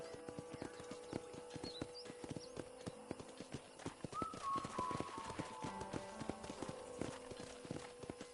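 Hooves of horses in the video game Red Dead Redemption clip-clop steadily at a walking pace, close by, with faint ambient tones and a brief soft whinny-like sound.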